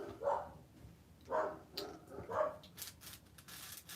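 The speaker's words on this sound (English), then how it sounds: "Just as my dogs start barking." Dogs bark in three spaced, muffled woofs at a distance, fairly faint indoors, followed by some rustling.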